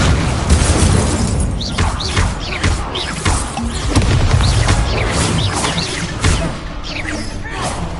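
Repeated booming spell explosions from Confringo and Incendio in a Harry Potter video game, a busy run of thuds and bursts layered over game music and effects throughout.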